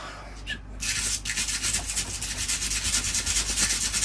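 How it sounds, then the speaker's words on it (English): A wire brush scrubs the trunk of an overgrown English oak bonsai, giving a close, steady rasping rub with rhythmic strokes and no talk. "this wire brush will do for now"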